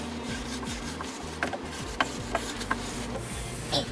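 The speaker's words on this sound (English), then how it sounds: "put some pressure on and really push that final buff into your board" Firm rubbing of a wax buffing pad across a snowboard base gives a steady rasping friction with a few sharper scuffs, close and continuous, with no voices.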